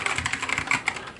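Rapid typing on a MacSense USB keyboard, a quick close run of crisp clicky keystrokes tapped alone without talk.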